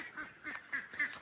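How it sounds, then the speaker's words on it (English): Ducks, mallards among them, quack in a short series of four nasal calls, faint and fairly distant, with no talking. "How many ducks have we got?"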